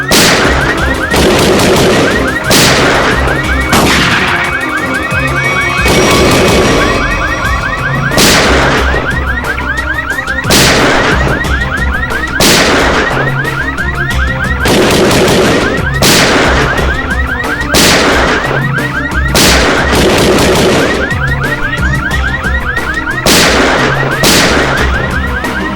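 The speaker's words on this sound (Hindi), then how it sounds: "ये तो कोई अलार्म लगता है, शॉकर अलार्म।" A loud repeating alarm with sharp bang-like bursts at regular intervals, each crack like a gunshot, continuing steadily without any voices.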